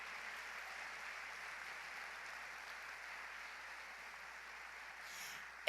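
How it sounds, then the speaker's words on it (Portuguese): A church congregation applauds, a soft, even wash of clapping heard from a distance that holds steady throughout. "Pode aplaudir, irmão, glorifica a Deus."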